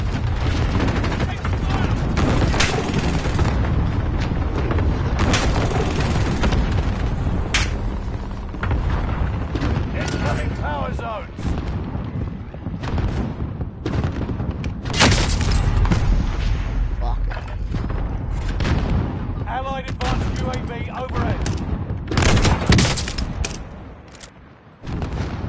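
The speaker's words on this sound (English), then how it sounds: "Allied precision airstrike incoming." Airstrike explosions and gunfire in Call of Duty Warzone, a dense, continuous barrage of booms and rattling shots that keeps up loud throughout, with voice callouts heard over the battle.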